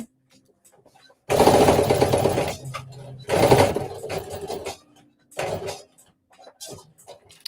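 A sewing machine runs in loud bursts while back stitching a flared dress, the motor whirring in several stop-start runs with short pauses between.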